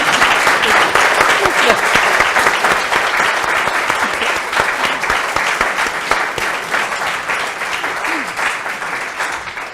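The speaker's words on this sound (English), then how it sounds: "please give a round of applause for our amazing panelists" A seated audience applauds panelists at the close of a university forum on the 2024 election, steady dense clapping that carries strongly throughout and tapers slightly toward the end.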